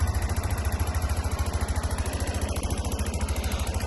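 A Suzuki Address V125 S scooter engine idles close by with a steady, rapid putter, running evenly and alone without speech.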